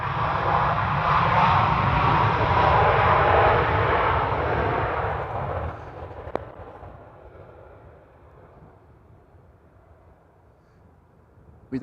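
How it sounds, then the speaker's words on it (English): A private jet landing on runway 27 at Amsterdam Schiphol airport, its loud engine roar close at first and then fading over several seconds to a faint rumble, with a sharp click partway through. "We don't get to see private jets land up close that often on Schiphol"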